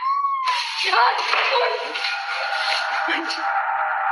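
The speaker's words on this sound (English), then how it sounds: "the cat's meowing seems quite unnatural, suggesting that someone or something was imitating these sounds" A cat-like meowing, caught on a home surveillance camera, starts with a short clear mew and turns into a long, harsh, raspy caterwaul. It is loud, close and noisy throughout.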